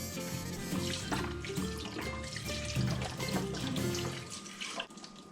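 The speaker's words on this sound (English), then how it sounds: "So we have our 32-ounce beef broth. Gonna pour that in." A 32-ounce carton of beef broth is poured steadily into a pot of keto chili with peppers and onions, a continuous splashing gush lasting several seconds with no talking.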